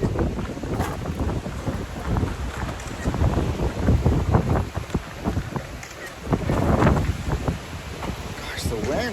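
Strong gusting wind outdoors buffets the microphone with heavy, uneven rumbling and roaring bursts that rise and fall throughout, loud and close.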